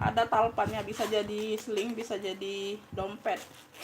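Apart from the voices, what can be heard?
No everyday noise stands out behind the speech.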